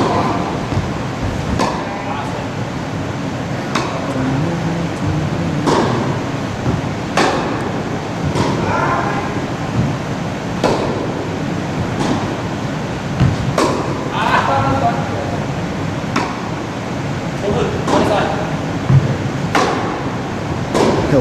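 Tennis balls struck with a 2020 Babolat Pure Aero VS racket sound as sharp, regular pops every two seconds or so, over steady outdoor background noise with occasional voices.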